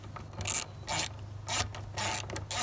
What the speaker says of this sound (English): get an 8mm ratchet and then undo all these bolts right here